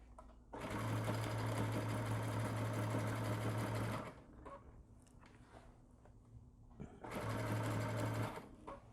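An electric sewing machine stitches a neoprene pocket in two bursts of steady, loud whirring, the first about three and a half seconds and the second shorter. A quiet pause separates them.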